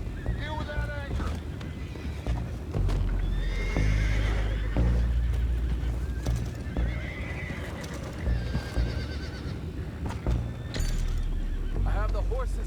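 Horses in the Red Dead Redemption 2 game whinny and neigh repeatedly while hooves clop nearby on a boat-side scene, with wind noise and voices talking in between.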